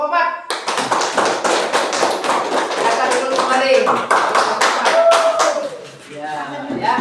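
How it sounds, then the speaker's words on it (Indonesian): Classroom of students claps for a group after its presentation, a dense burst of many hands lasting several seconds, with a teacher's voice talking over the end as the clapping fades. "tepuk tangan untuk kelompok 4"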